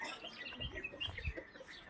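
Chickens cluck softly at a distance over a low background hum, a few scattered bird calls mixed in, faint and continuous.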